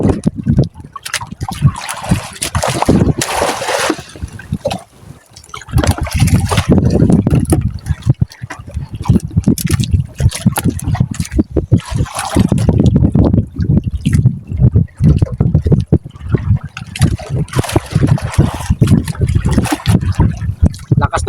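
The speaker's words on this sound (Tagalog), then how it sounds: "Lakas ng agos mga idol dito sa kabila" A strong river current rushing loudly and continuously close by, surging in waves with wind noise during a riverside fishing trip.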